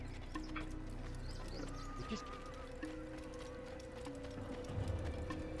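Hooves clip-clop steadily at a walking pace in a video game, over a low ambient hum, with a soft musical tone drifting in the background.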